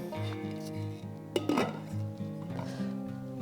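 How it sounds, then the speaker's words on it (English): A slow cooker lid clinks down onto the pot of beef stew with one sharp knock midway, over a steady low hum and faint kitchen clatter. "Now we'll put a lid on."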